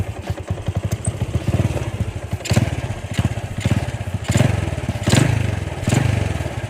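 A carbureted Honda Wave 100/110 motorcycle engine with a 53 mm piston runs nearby. It idles with a fast, even chugging pulse, and several short throttle blips periodically swell the loudness.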